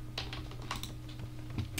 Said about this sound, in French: Désolé si je martyrise mon clavier